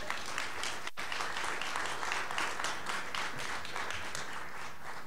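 Sustained applause from an audience at a university aviation welcome event, steady and even throughout with no talk over it.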